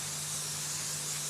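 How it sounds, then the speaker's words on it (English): Constant hiss of an airbrush spraying paint onto Tyvek, close and even, with a faint low hum beneath it. "background spray."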